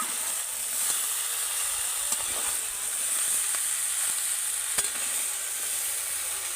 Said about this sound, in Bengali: বড়িটা দিয়েও আমি একটু নেড়ে দেব